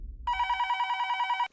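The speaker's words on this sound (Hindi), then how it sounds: "इतनी रात किसका फोन?" A telephone bell rings late at night in a home, one steady continuous ring, loud and close, starting after a brief low rumble and cutting off abruptly near the end.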